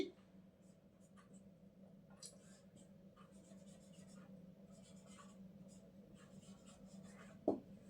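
A pen scratches across paper while an answer is written out, a faint, close, continuous scribble over low background hum, ending with a small tap.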